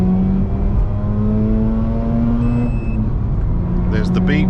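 Mazda RX8 rotary engine accelerating hard in second gear onto a bypass, a steady rising drone heard from inside the car, with a short electronic beep near the end.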